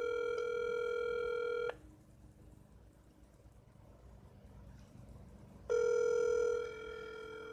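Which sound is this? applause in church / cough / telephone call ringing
telephone call ringing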